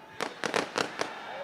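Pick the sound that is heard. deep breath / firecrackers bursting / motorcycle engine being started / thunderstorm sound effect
firecrackers bursting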